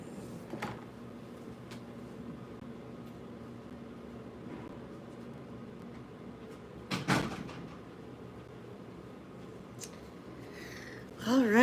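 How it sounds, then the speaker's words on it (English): A door is shut with a single sharp thud around the middle, set against a steady hum of room ventilation in an office before a live tech talk; faint shuffling precedes it and a brief electronic warble follows. "Let me go shut my door."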